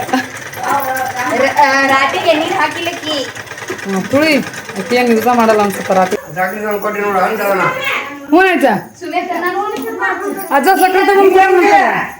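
A sewing machine stitches a blouse, its rapid mechanical whirring running in bursts as people talk over it in a busy village home during festival preparations.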